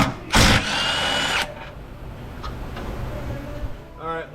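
A power tool rattles loudly as it spins off 18 mm bolts near a car's power steering rack, a short burst followed by a longer run, then quieter clanks in a garage.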